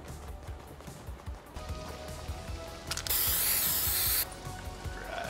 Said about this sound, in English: Spray this board.